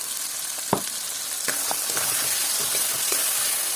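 Spice paste sizzles as it fries in a pan for coconut chicken, a steady close crackle broken by a few sharp spits and pops, with no voices over it.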